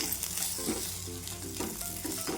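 Boiled potatoes stirred as they fry in a pan for a spiced potato bhaji, with a constant sizzle and a few scraping strokes of the spatula, close up and fairly quiet, with no voices.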